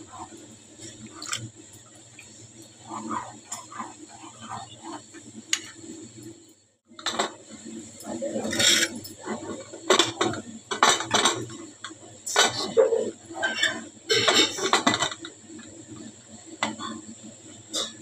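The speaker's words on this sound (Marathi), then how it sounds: "आता याला ढवळणार थोडं आणि मग झाकण लावणार." A metal spoon clinks and scrapes around a pot of spicy chicken cooked over a wood-fired stove with hot water added, repeated irregular clattering, then a metal lid set down with louder knocks and rattles.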